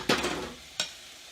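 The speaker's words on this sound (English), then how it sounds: "let me stir some of this cilantro in first" Cilantro stirred into chicken taco filling in a pan: two quick scraping strokes, the first longer with a soft sizzle trailing off, the second a short swipe, close and fairly quiet.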